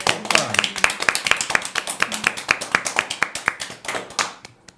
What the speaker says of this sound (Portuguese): Um grande abraço e uma salva de palmas para o nosso Dirceu aqui.